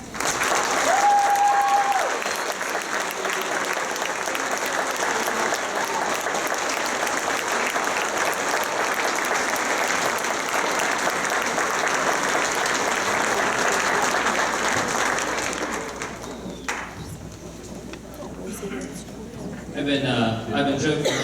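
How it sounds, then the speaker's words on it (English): Sustained audience applause honoring seniors at a high school symphonic band spring concert, a dense wash of clapping that holds steady for about fifteen seconds before thinning, with crowd voices underneath and a swell of clapping again near the end. "let's give them a round of applause"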